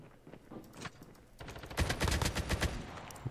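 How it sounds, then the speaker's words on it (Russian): Gunfire in Call of Duty Mobile on the Alcatraz map: a few faint shots at first, then loud, rapid bursts of automatic fire crackling close by for the last half. "Вы слышали, как по нам прострелили люто"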